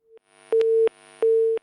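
After a call-in caller is cut off from a phone line, a telephone busy tone sounds as two long, steady beeps with short gaps, clean and close, with a faint blip before them.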